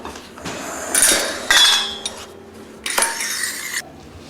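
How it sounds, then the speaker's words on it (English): A wooden spoon stirs Irish brown bread ingredients in a bowl: bursts of scraping and knocking, with clinks and clatter arriving in several loud clusters separated by quieter stretches. "you get your wooden spoon and you stir everything around."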